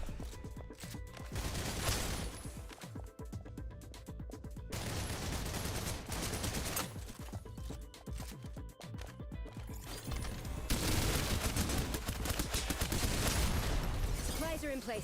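Gunfire bursts from the online action game Tower of Fantasy, repeated shots crackling over a busy, dense soundscape with game music and effects throughout, no pause in the mix.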